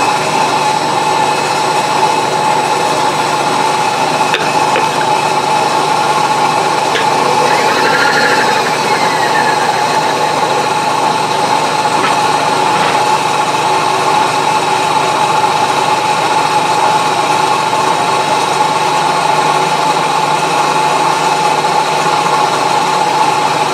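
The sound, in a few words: wood chipper running at just over 100 RPM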